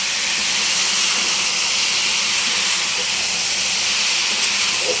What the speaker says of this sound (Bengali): অনেকদিন পরে ভাজি করতেছি